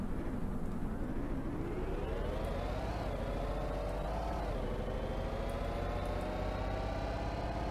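Engine of a 2017 Stuttgart Jogger 2500 truck driving in the Greenville game, a steady, fairly quiet drone that rises and falls gently in pitch as it speeds up and eases off.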